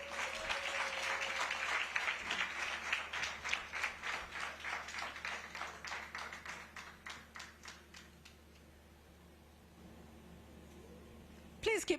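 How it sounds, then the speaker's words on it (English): Audience applause for Sylvia Mulinge, CEO of MTN Uganda, arriving as chief guest at a charity event; loud sustained clapping that thins into scattered claps and fades away near the end. "Please keep clapping for her as she walks up."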